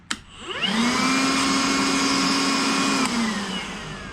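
A Makita DVC750L 18V cordless brushless vacuum cleaner switches on in its stronger mode, spinning up to a loud, steady whine, holding level for a few seconds, then winding down as it is turned off.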